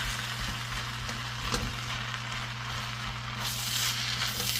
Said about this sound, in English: We're going to let that fry here, get everything mixed in.